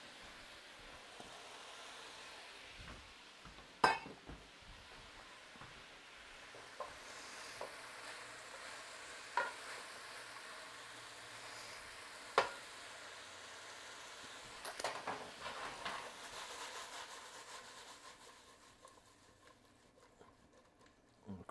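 Apple pie stir fry sizzling in a pan on an electric heater, a faint continuous frying hiss with occasional sharp clinks and scrapes of stirring, and no voices.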